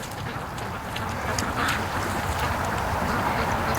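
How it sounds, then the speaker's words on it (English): Free-range ducks quack outdoors at a distance, scattered calls rising over steady background rumble and wind noise. "Oh, look at the duckies, they're out there."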